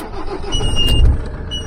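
A Ford Transit Mk7 van engine cranking and catching, a brief close rumbling burst that swells and settles into a low running note.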